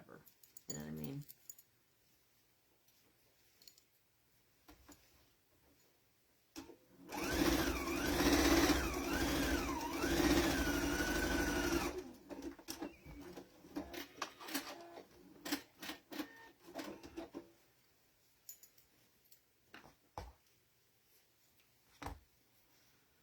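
A Viking sewing machine runs a fast, steady burst of stitching along a bed skirt seam for about five seconds. Quiet clicks and handling noises come before and after the stitching, and soft talk is heard between them.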